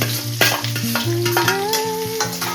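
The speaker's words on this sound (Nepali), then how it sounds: "यो प्याज फटाफट फ्राई भइहाल्छ" Onions, green chili, cumin and fenugreek seeds fry in hot oil for aloo gobi, giving a steady close sizzle with stirring scrapes, while tonal background music runs underneath throughout.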